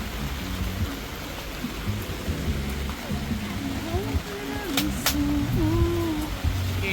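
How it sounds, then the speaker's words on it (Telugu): Heavy rain pours steadily over a night street food market in Roxas, Philippines, a dense continuous hiss under voices talking nearby. "సో గైస్ చూడండి సార్, గైస్ ఫుల్ వర్షం పడుతుంది అనమాట"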